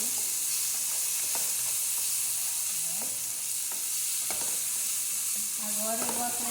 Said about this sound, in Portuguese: Vou mexer.